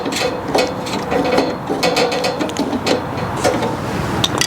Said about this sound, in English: I'll put my socket, and you see that? I'm twisting this down by hand.